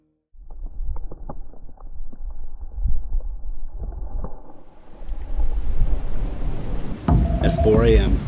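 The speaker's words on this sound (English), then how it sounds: "At 4 a.m., thunder shook us awake." Thunder rumbles during a night storm atop a burned chaparral mountain, with low, rolling booms building across the clip and growing louder and denser toward the end, mixed with steady wash that may be rain.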